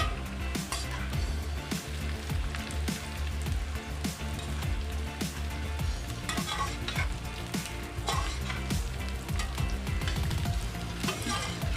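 Potato fries sizzle steadily in hot oil while being stirred, with a constant frying hiss broken by regular scraping stirs, close and loud throughout.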